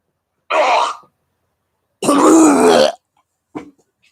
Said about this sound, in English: I actually had to cough.